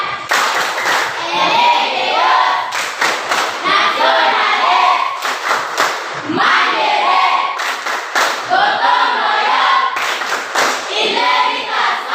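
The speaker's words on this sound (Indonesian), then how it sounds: "Tepuk semangat" A school class of seventh-graders performs a rhythmic group spirit clap, loud bursts of clapping in repeated patterned sets with short pauses between, close and energetic, with a few children's voices mixed in.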